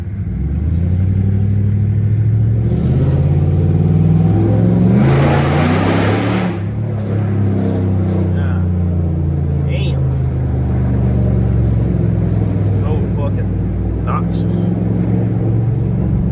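A loud rebuilt Dodge Charger R/T engine rumbles and revs steadily in downtown Chicago, rising in a sharp surge partway through, with people talking and shouting over it.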